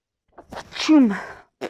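A woman gives a single close, loud sneeze: a short intake of breath, then a sharp burst with a falling voiced tail, followed by a brief breathy sound.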